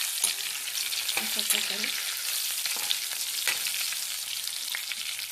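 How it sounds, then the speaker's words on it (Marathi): Spice-stuffed eggplants frying in oil make a loud, continuous hiss with brief stirring scrapes, and a voice speaks a few words near the start. "तेलामध्ये चांगली फ्राय होऊन द्यायचं आहे."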